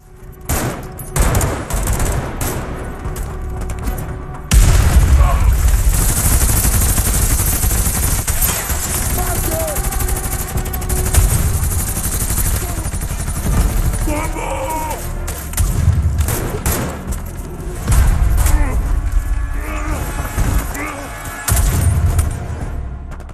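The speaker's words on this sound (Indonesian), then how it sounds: "Josefo dan anak buahnya terus melancarkan tembakan tanpa henti ke arah rumah itu" Sustained heavy gunfire in a firefight on a house, rapid bursts and repeated loud shots overlapping almost continuously, with booming blasts and shouting voices mixed in.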